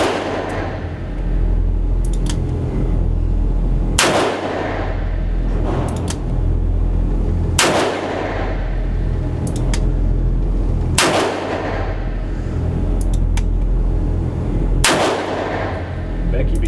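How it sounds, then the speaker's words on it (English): A Smith & Wesson 327 TRR8 Performance Center revolver fired with .357 Magnum rounds at an outdoor range, five loud, booming shots spaced roughly three to four seconds apart, each with a long rumbling tail. "she wanted to shoot .357 instead of .38 Special"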